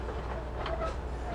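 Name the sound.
train running, heard from inside a compartment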